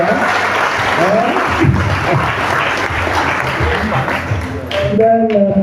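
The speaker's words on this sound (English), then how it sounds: "We clap for him when he's not there." A graduation assembly audience claps for a student receiving a distinction in absentia, a dense sustained round of applause with voices murmuring beneath, thinning out near the end as the clapping fades.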